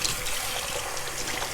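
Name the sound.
water running from a tap while rinsing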